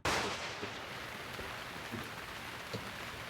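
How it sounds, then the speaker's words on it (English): Heavy rain from a Category 1 tropical storm in the Philippines pours down in a dense, steady roar, with scattered louder drops and splashes striking nearby surfaces and no voices. "Category 1 tropical storm."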